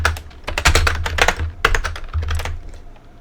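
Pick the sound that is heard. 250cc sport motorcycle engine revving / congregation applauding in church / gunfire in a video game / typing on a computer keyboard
typing on a computer keyboard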